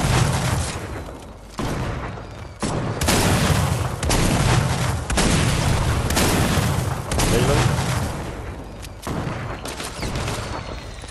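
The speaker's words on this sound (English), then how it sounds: "I'm just gonna spam grenades." Repeated grenade blasts in a Fortnite Battle Royale match, a run of loud booming bursts with brief gaps between them over roughly eleven seconds, with players' voices talking underneath.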